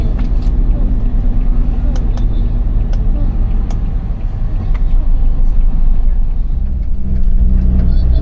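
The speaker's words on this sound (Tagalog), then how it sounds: "Ayun, daming truck oh." Dense truck traffic near a harbor in Binondo rumbles steadily, a continuous wash of heavy engines with occasional brighter clanks, many large vehicles moving nearby.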